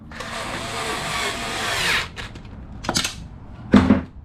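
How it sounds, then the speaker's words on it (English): Power tool whirring for about two seconds while a 4mm bolt is driven back in on a 2025 Suzuki M109R Boulevard, followed by short bursts and a sharp clank, close up. "Just put back your 4mm bolt in here."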